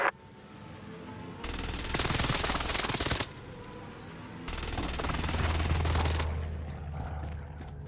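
Video game combat with bursts of automatic gunfire and an airstrike, two loud sustained volleys of rapid shots separated by a quieter gap, then a rumbling barrage that slowly fades.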